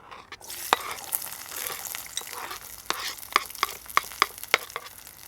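Onions, peppers and chilies frying in several tablespoons of hot oil in a Balti bowl, a soft crackling sizzle punctuated by sharp metallic scrapes and knocks, close and clear.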